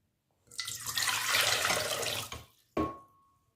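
Lukewarm water pours for pide dough in a close splashing stream that lasts about two seconds. A shorter second pour follows and fades out.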